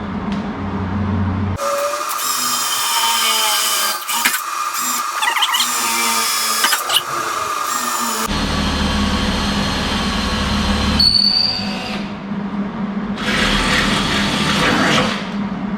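A drill bores a 1/4 inch hole in a steel pickup cab corner during fabrication, a loud sustained whine and grind close by that stops, restarts with a rough metallic rumble, and runs on for several seconds without talk.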